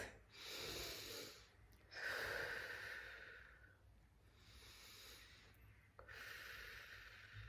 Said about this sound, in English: Please take 3 deep breaths.